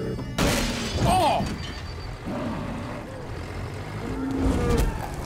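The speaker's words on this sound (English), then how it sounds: "Kill a bull with a tractor mulcher?" A bull in Far Cry 5 lets out a loud, wavering moo amid crashing game noise, with a machine rumbling and people shouting over it.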